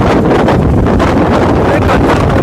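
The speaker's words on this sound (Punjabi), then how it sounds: "ਬਹੁਤ ਜ਼ਿਆਦਾ ਹਵਾ ਚੱਲ ਰਹੀ ਹੈ ਇਸ ਵੇਲੇ" Strong wind buffets the microphone in a constant loud roar of rumbling noise throughout, with no pauses, during bad weather at an outdoor political rally in Punjab.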